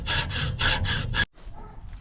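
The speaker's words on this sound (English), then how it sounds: "I'm gonna cut a straight line lengthwise on that piece of pipe." A hand saw cutting lengthwise along copper pipe clamped in a vise: five loud, rasping back-and-forth strokes in steady rhythm, close up, then the cutting stops and faint handling noise follows.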